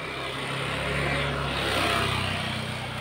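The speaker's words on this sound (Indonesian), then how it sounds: "Ini mesin kipor diesel 9 PK." A Kipor 9 HP diesel engine runs at a steady idle with a constant low, throbbing drone, heard close and continuous throughout with no talk.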